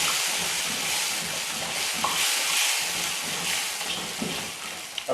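Tomatoes sautéing in a pan for homemade chicken tikka biryani, a steady, fairly loud sizzle with stirring scrapes over it throughout.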